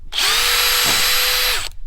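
A power drill bit drills out a plastic SpinSeal nipple in one steady, loud, close whir lasting about a second and a half, starting and stopping abruptly with no voices.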